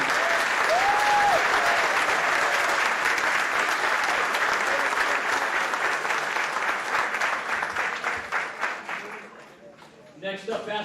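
Crowd applause for baseball signees at a signing day, a dense sustained roar of clapping that slowly thins and fades near the end, with a voice briefly speaking over it.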